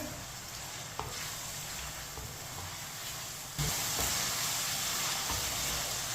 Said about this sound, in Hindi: इसे 5 मिनट के लिए चम्मच चलाते हुए भून लेंगे।